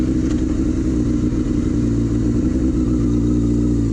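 Suzuki GSX-R750 sport motorcycle on a test ride, its engine droning loud and close with steady mid-range rumble and slight revving, wind and mechanical clatter underneath, no voices.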